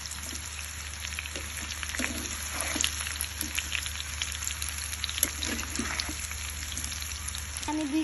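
Mango pickle being stirred with salt in a pan, a soft continuous sizzle with wet scraping and light clicks of the spoon against the pan, steady and close.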